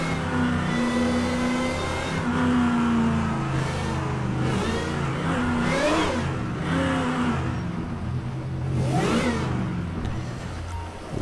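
A car engine in the video game GTA 5 revs repeatedly, rising and falling in pitch over a steady loud motor drone, with several sharp surges spaced a few seconds apart.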